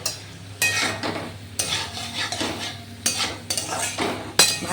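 Fried potatoes are stirred with spices in a hot pan for a potato and chhana dish, giving repeated scraping strokes of a utensil about once a second over a soft, continuous sizzle.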